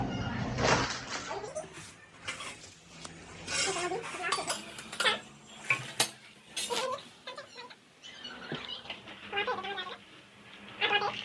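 Heavy metal kadhai and cooking pots are handled nearby, with irregular clanks, scrapes and clatters separated by short pauses.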